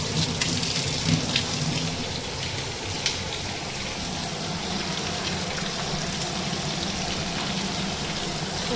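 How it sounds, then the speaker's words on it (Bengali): Fish frying with onions in a pan, cooked until browned and crisp, gives a steady close hiss and crackle that runs unbroken throughout, with a few sharper pops and no voices. "ভালো করে মাছ একটু পেঁয়াজ দিয়ে ভেজে নেবো লাল করে"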